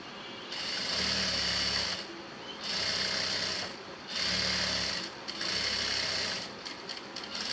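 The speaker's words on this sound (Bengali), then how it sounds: "এখন আমি সেলাই করব।" A sewing machine stitching a box pleat in fabric, running in four steady whirring bursts of about a second each, separated by brief pauses, close and clear with no talking over it.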